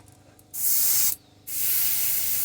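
Two short hissing bursts of pearl white paint sprayed from a nozzle while custom painting a fishing popper, separated by a brief pause, close and loud.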